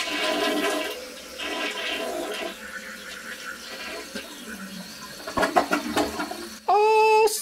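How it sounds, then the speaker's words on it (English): A household toilet with weak flushing is flushed, giving a loud close rushing of water that gurgles and tapers off, then a brief high-pitched squeal or refill whine at the end; no talk. "Let me go ahead and flush it."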